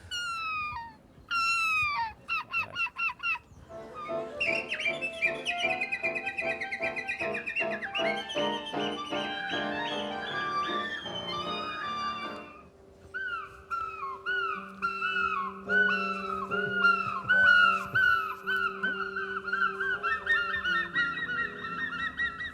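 Two young men from the Bay of Somme imitate bird songs with their voices in a Picardy TV segment, producing loud honks, whistles and rapid chirping trills in alternating bursts.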